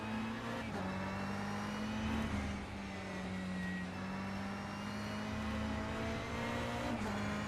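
An LMP prototype race car engine drones steadily in a racing video game at Spa, holding a sustained near-constant pitch with slight shifts as it runs down the track, with no talk over it.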